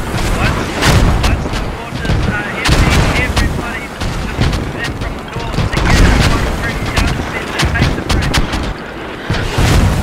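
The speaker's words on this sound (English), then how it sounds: "they're gonna flatten Arnhem. You see all the shells coming in?" Artillery shells and gunfire bombard Arnhem at the bridge in the Post Scriptum battle game. Loud, rapid shots and blasts come in irregular bursts, with continuous rattling fire and booms throughout while a person talks over it.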